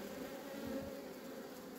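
Honeybees buzzing at an opened hive while a gloveless beekeeper works the frames, a steady close hum that runs without a break and without talk.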